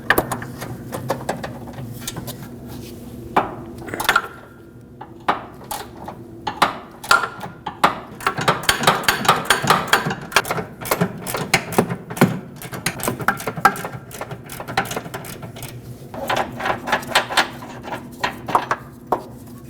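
Mechanic's tools work a 19mm headed through bolt free from the subframe of a 2009-2015 Honda Pilot's rear suspension, giving a busy run of clicks, ratchet taps and metallic knocks close by, no talk.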